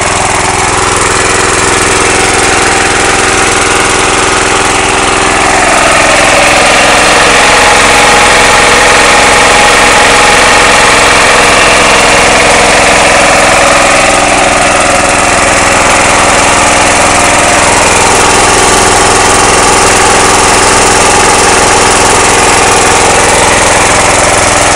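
A loud, close engine chugs along steadily for the whole stretch, a rough continuous drone with slight swells in intensity and no voices.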